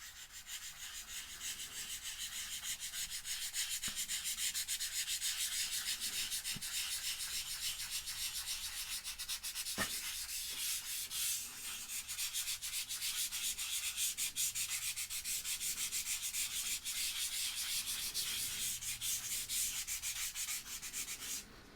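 A brush scrubs paint onto a painting in a continuous, close, dry rubbing hiss that keeps an even rhythm with a few brief taps and no speech.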